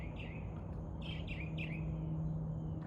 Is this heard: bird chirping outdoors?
yes